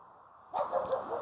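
A dog lets out a quick burst of short, yippy barks after a moment of near quiet, faint and somewhat distant, the sharp yelps tumbling together.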